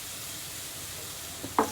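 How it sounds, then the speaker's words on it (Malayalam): Fried eggs stirred into a spicy masala in a pan, a soft continuous sizzle with a quick clatter of the spoon at the very end. "എന്നിട്ട് നമ്മുടെ മുട്ട വറുത്ത് ശരിക്കും മിക്സാക്കി കൊടുക്കാം."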